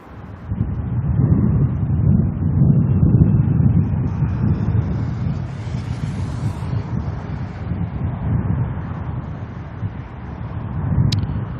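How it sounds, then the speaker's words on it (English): Strong wind buffeting a microphone outdoors at Auckland Airport, a loud continuous low roar that rises and falls in gusts for the whole stretch, with no voices. "I may have to change my ambient setup if this wind keeps up like this."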